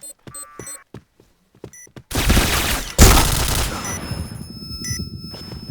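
Gunfire in the shooting game Point Blank: scattered electronic clicks and beeps lead into a loud sustained burst of rapid automatic fire with a heavy boom partway through, then fading game tones.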